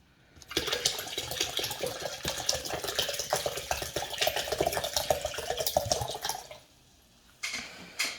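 Water pours from plastic bottles during home cookie baking: a steady, splashing gush runs for several seconds, stops briefly, then resumes for a short final pour.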